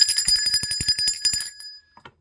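A small bell rung rapidly, a quick run of bright metallic strikes with shimmering high overtones, fading out after a last couple of light taps, close and clear with no voices.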